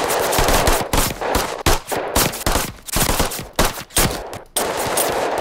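Bursts of loud automatic UMG gunfire in the zombie shooter Zombielator, several rapid strings of shots broken by short pauses, close and harsh, no speech.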